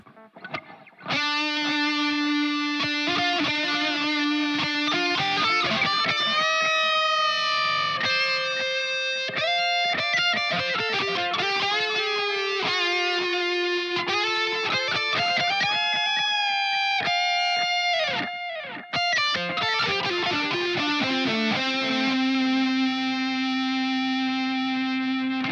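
Electric guitar played through the free ML Sound Lab Amped Roots 2.0 amp simulator with a delay effect. Distorted, sustained notes and quick runs sound steadily for about 25 seconds, with echoing repeats trailing each phrase.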